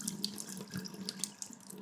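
Tap water runs steadily into a kitchen sink while cooked beans are rinsed, a soft continuous splashing and trickling at close range with small drips and no talk.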